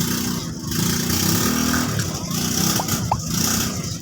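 A motorcycle engine in a video game revs loudly and continuously, its roar rising and falling against a busy background of game sounds, with no speech over it.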